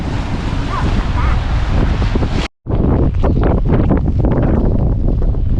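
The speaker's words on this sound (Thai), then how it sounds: "ทั้งลมทั้งฝน" Loud wind and rain in England roar and buffet the microphone, with rushing water-like noise throughout; the sound cuts out briefly midway, then resumes just as strong.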